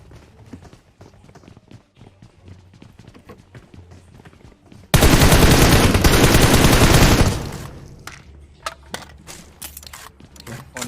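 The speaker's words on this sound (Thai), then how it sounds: "ผมได้ยินเสียงปืน" Rapid clicking footsteps, then a loud burst of sustained automatic gunfire in PUBG Mobile for a couple of seconds, fading back to scattered clicks and taps.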